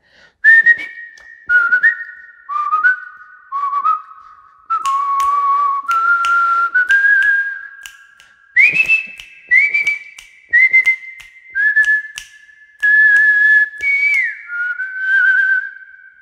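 A person whistles the melodic whistle portion of a song, clear sustained tuneful notes in a sequence of short phrases, loud and alone.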